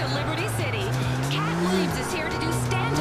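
A car in Grand Theft Auto 4 skids with squealing tires, the engine droning steadily under a rising and falling screech for several seconds, loud and close, while a voice talks over the game noise.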